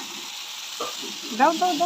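Onion-garlic paste sizzles softly in a hot pan while people talk over it during an outdoor picnic cook-up.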